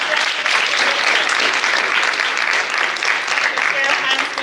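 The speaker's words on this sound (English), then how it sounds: "Put your hands together." A hall full of people at a school graduation in Mandeville applauds for the grade 5 students, a steady dense wash of clapping held for several seconds with no talk over it.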